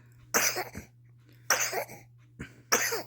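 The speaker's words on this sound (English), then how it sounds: "That old cough needs to go, don't it?" A child with RSV coughs four times, close and harsh, in two pairs, each a short broadband burst with brief pauses between, near and fairly loud, with a low steady hum underneath.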